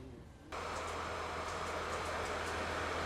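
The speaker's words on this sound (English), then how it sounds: "A yellow and blue train car arrived, followed by several others." Shinkansen maintenance cars, a yellow and blue lead car followed by several others, roll in along the tracks, a steady low rumble that swells suddenly and holds, near and fairly loud, no talking.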